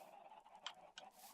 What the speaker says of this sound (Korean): 닭들이 엄청나게 많이 100마리나 떨어지게 됩니다.